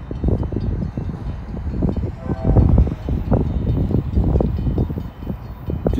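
Steady, blustery wind rumbles across the microphone, with gusty low-frequency buffeting that rises and falls continuously throughout.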